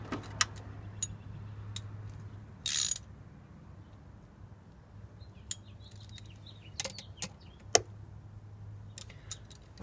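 Ratchet socket wrench on a small hose clamp while a cold air intake is fitted to a 5.7 HEMI Dodge Magnum: sparse, sharp ratcheting clicks close by, with one short buzzing burst, in a quiet garage.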